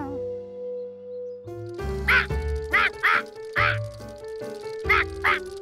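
Cartoon ducks quack loudly in a quick series of nasal calls at a fair shooting game, over a steady electronic hum.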